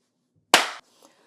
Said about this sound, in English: I need to do a sync clap.